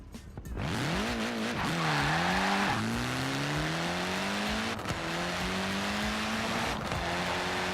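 Honda Civic Type R engine in Forza Horizon 4 revving up through rising gear pulls, with shifts breaking the climbing drone and tire noise, loud and close throughout.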